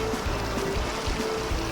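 Raft gliding along the Ogan River in Ogan Komering Ulu, with a steady wash of flowing water lapping close by beneath a low engine-like hum.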